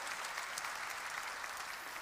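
Congregation clapping during a Korean church sermon, a steady, even wash of applause at low level with no speech over it.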